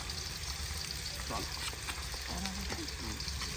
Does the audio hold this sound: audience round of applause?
no